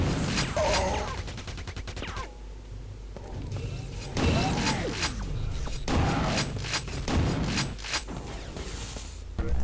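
Rapid bursts of video game gunfire in Quake 2 clatter in several clusters as shots are fired at a tank, with metallic impacts and sweeping effects between the volleys.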